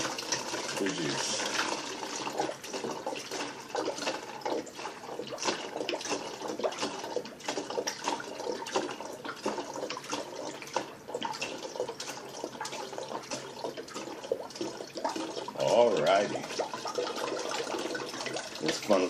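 Homemade ginger-limeade juice poured through a homemade funnel into a bottle, giving a continuous trickling, gurgling stream with small splashes and clinks, moderately close and steady for the whole stretch.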